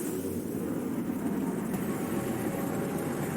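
Helicopter arriving in Deus Ex: Mankind Divided, a steady, loud, dense rotor and engine roar with heavy low rumble throughout, constant and close with no pauses.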